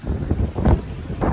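Strong winter mountain wind on Pic d'Ayous gusts and buffets the microphone in rough, roaring bursts, loud and close with no voices.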